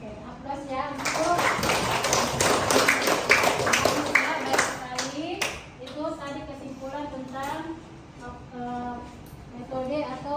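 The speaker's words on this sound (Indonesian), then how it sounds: "Oke, aplaus ya." A small audience in a university classroom breaks into brisk, scattered hand clapping for about five seconds, then the clapping fades as several voices talk over the room.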